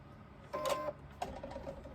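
Short bursts from a sewing machine basting down the edge of a crossbody bag, two quick runs of stitching with a brief pause between, close and moderately loud with no voices.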